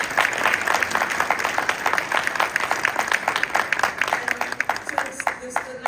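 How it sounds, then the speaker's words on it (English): Audience applause at a Chinatown community meeting with the mayor, a run of steady claps from a roomful of people, fairly close and moderately loud, fading toward the end as a voice starts. "Please give yourselves a round of applause"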